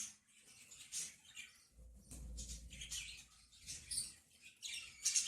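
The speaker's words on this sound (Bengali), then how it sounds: "খুব সুন্দর পাখি।" A pet bird at home gives faint, scattered high chirps and tweets in short bursts, heard close but quiet against a hushed room.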